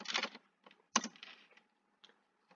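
Typing on a computer keyboard at a desk, with a dense burst of key clicks at the start, then scattered taps and a sharp pair of keystrokes, ending in a few faint isolated presses; no speech.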